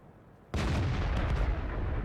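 A World of Tanks tank gun fires once with a sudden loud boom, and its heavy rumbling report rolls on through the rest of the moment.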